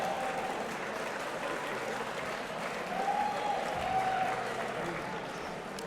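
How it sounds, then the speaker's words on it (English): A dinner audience gives steady, moderately distant applause for a jazz trio, a continuous wash of clapping that holds even throughout, with faint voices mixed in. "let's give another round of applause, please, to the Paul Buono Trio"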